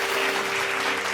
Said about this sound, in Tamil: கைத்தட்டுங்களே ஒரு தடவை அவருக்கு